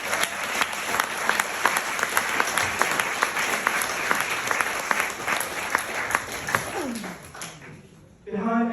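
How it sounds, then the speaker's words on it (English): Graduates at an Emory MSBA 2022 graduation ceremony applaud during a speech, loud sustained clapping from a large crowd with sharp individual claps standing out, fading toward the end as a voice begins. "Let's give ourselves a big round of applause."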